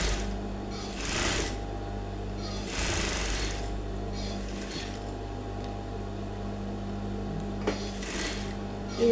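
A sewing machine stitches smocking on a crop top, its steady mechanical whirring running close and loud in several bursts separated by short pauses, with a faint low hum underneath.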